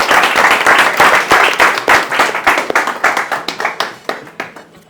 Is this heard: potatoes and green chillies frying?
no